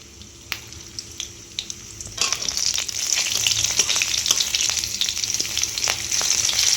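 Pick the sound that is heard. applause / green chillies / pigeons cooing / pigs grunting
green chillies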